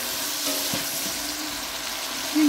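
Peppers sizzle steadily in hot oil in a pan, a close, even hiss with a few soft scrapes of stirring, and no talk.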